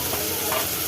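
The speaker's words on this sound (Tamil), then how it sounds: "இப்போ பொடியாக நறுக்குனா தக்காளியும் போட்டுக்கலாம்." Finely chopped tomatoes sizzle in a hot pan with green chilies while a dhaba-style peas masala is cooked, giving a steady, close frying hiss with faint stirring.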